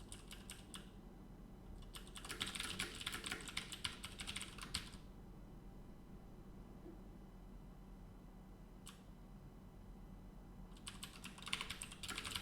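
Computer keyboard typing comes in bursts of rapid clicking separated by quiet stretches, close and fairly soft, with one brief isolated keystroke cluster between.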